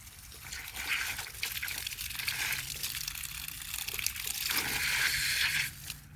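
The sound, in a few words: water leaking from a pipe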